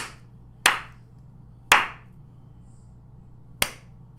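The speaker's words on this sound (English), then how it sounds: "There you go, still clapping" Three sharp, separate claps ring out slowly in a quiet room, spaced about a second or two apart over a low steady hum.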